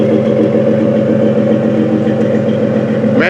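A GMC Jimmy six-cylinder engine idles steadily close by, a loud, even low rumble with a pulsing exhaust note that holds throughout.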